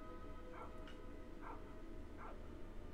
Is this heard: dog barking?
yes